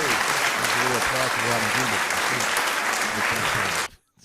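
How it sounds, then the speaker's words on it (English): Audience applause for a comedy show performer, dense steady clapping with a voice talking over it throughout, cutting off abruptly near the end. "Give Robin Greenberg a round of applause."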